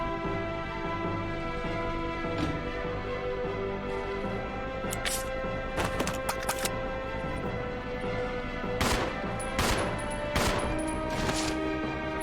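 Scattered gunshots in the Resident Evil 0 video game, several sharp bursts spread across the stretch over a steady bed of game music and ambience, clustered more densely toward the end.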